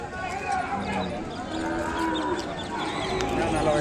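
A calf lows at a busy weekly cattle market in Kodada, its drawn-out moo rising over steady crowd noise and nearby voices talking.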